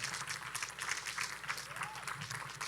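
A church youth-ministry congregation applauds, a soft, fairly distant patter of many hands clapping steadily with a murmur of voices underneath.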